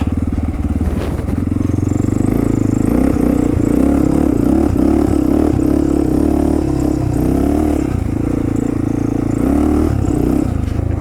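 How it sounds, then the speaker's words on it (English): A fairly large older motorcycle with upside-down forks rides off-road over rocky ground, its engine rumbling loud and steady throughout with throttle surges and clattering over the terrain. "This old beast, she carries her weight pretty good for a, fairly large bike."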